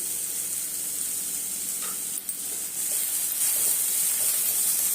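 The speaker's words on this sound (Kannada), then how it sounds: "ಈರುಳ್ಳಿ ಚೆನ್ನಾಗಿ ಫ್ರೈ ಆಗಿದೆ" Finely chopped onions fry with a little salt in a pan for a greens stir-fry, a steady bright sizzle with faint stirring scrapes, no talking.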